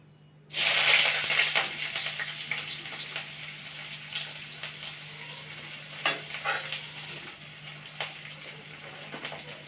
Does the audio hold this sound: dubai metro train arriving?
no